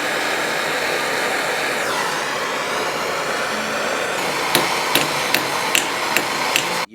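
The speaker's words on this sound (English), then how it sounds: "He was hitting the vise." A hammer strikes a vise while a folding knife is forged. About six sharp, evenly spaced metallic hits ring out near the end over a steady, loud roar.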